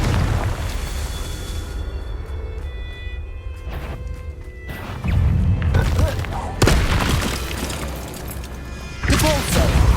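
Confringo blasting spells going off in the video game Hogwarts Legacy, a series of loud booming blasts and crashes over continuous game noise, with several heavy bursts in the second half.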